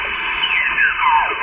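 A ham radio set up inside an SUV at a campsite, powered by a solar charging system, gives out a brief band-limited burst of received traffic with a sliding whine, loud and close.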